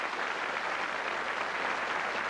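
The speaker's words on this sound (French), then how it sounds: "je crois qu'on peut vous applaudir très fort" A French television studio audience applauds loudly in a dense, continuous wash of clapping that holds steady with no voices over it.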